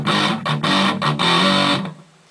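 Heavily distorted electric guitar playing a chugging power chord riff, loud and close, with short choked gaps between bursts before it is cut off and fades.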